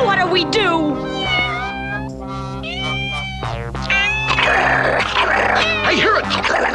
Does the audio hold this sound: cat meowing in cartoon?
yes